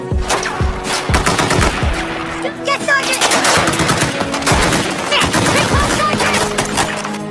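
Dense gunfire in a battle scene from a war film pitting US forces against the Taliban: sustained machine-gun bursts and rapid shots, loud and continuous, with sharp cracks layered throughout.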